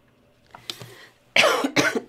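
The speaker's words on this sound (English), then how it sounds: "excuse me, this cough." Several coughs, one faint and short, then two loud harsh bursts close to the mic, in a quiet room.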